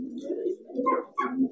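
Young pigeon (squab) cooing up close, a few soft, throaty low coos in short phrases, loud and alone with no talk.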